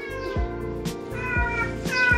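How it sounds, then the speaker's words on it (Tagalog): Pet cat meowing close by, three drawn-out harmonic meows in quick succession, alone without talk. "Oy, pusa ko."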